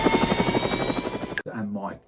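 A helicopter flies close with a loud, steady, rapid rotor chop and engine whine for about a second and a half, then cuts off as a voice speaks.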